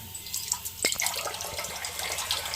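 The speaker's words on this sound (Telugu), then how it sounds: "ఇక్కడ వాటర్ ఆన్ చేశాను" Tap water runs into a water purifier during a pump repair, an uneven splashing flow with small drips and clinks, fairly quiet and close, with no talking.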